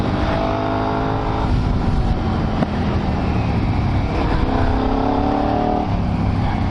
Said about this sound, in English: There's a car here.